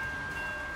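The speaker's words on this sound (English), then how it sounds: "You hear a train coming out of your speakers? We call that the two times two choo-choo." A train horn sounds as a stream sound effect, one steady sustained tone held through the whole short moment, fairly loud and alone.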